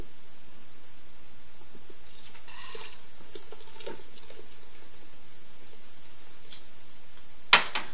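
Beer poured into a pot of chili, a steady fizzing, foaming pour heard close up and alone, ending with a brief clink near the finish.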